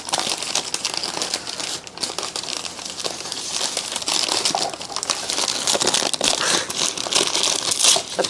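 Wrapping paper crinkles and crunches loudly and steadily up close as a seed-grown Anthurium plant is unwrapped, a continuous dense rustle with brief dips between handfuls.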